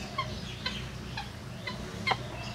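Chinese chickens, or titi pheasants, cluck softly in short scattered notes over a low steady background hum, several calls within a couple of seconds.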